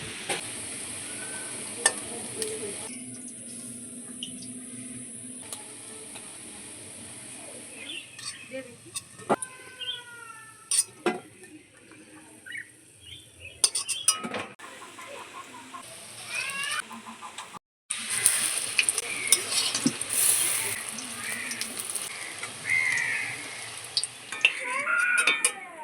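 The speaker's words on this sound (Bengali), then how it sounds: "মাছের ডিমের চপটা লাল লাল করে ভেজে নিতে হবে।" Fish roe chops fry in hot oil in a kadai, starting with quiet stirring and scraping, then a loud, bright sizzle that surges in strongly after a short pause, while a voice speaks now and then.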